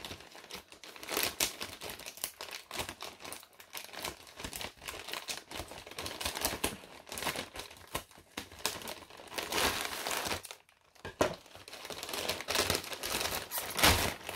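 Continuous close-up crinkling of plastic, with bursts of rustling and crackling as a Temu shipping bag is pulled open, loud and busy throughout.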